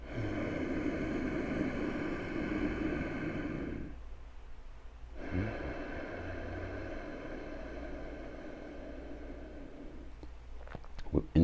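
Steady breathing through the nose with the mouth closed during a meditation gives a soft, continuous ocean-like whoosh that runs for several seconds, briefly pauses, then resumes, close and even.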